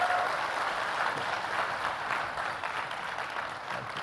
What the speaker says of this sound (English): Now the applause isn't stopping.